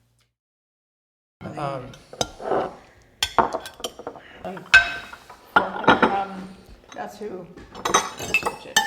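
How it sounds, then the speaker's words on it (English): Dishes clatter and knives and forks scrape across plates at a dinner party, with sharp clinks and scrapes coming in bursts under people talking in the background. "dishes clattering, knives and forks scraping up food"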